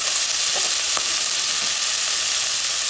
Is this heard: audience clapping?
no